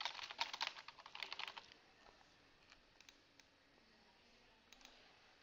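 Computer clicks and keyboard taps sound while settings are applied on an ASUS RT-AC68U router, a quick cluster of close, faint clicks at first, then sparse ones over a quiet background.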